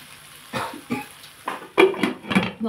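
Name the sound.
lid being put on a cooking pot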